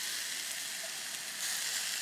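Pork intestines stuffed with lemongrass grill over a fire, giving a steady soft hiss of sizzling fat with a few faint crackles, quiet and close.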